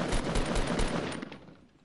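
Rapid bursts of gunfire in the Fortnite video game, played with friends near a house: three loud, fast volleys, then a quieter, decaying tail with no voices.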